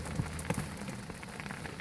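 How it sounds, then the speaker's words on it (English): Rain falls steadily on a house-building construction site in the Florida Keys, a soft continuous patter with a few sharper nearby drips on a surface. "I think it's going to rain all day."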